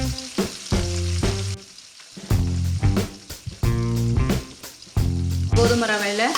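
Chopped onions with ginger, curry leaves and green chilli sauté in a pan for wheat rava upma, giving a loud, continuous sizzle with occasional stirring, under tonal background sounds throughout.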